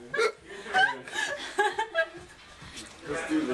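A person with hiccups gives a few sharp hiccups amid laughter and chuckling, with people talking over them close by.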